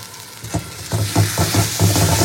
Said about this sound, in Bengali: দিয়ে মশলাটাও খুব ভালো করে কষিয়ে নেব।